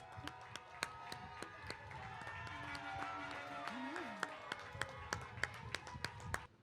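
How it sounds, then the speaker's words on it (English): Scattered, fairly faint handclaps from a graduation ceremony audience applauding the graduates, with individual claps popping out over a low murmur of background noise. "One more round of applause for our graduates."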